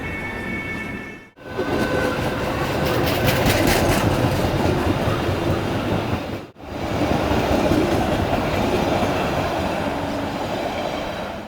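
A train rolls steadily past through Varanasi City railway station with loud, rhythmic clickety-clack of wheels on rails and a metallic rumble. Two brief drops interrupt the noise as cars pass.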